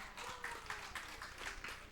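Children clapping together at a church service, a quick rhythmic run of about seven even claps, faint and slightly distant.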